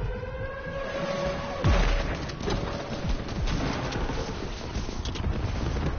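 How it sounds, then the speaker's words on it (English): An airstrike in the video game Fortnite drops explosions in a dense rumbling barrage, a sharp boom near the start followed by repeated crackling blasts and low roaring noise, loud throughout. "He just threw an airstrike."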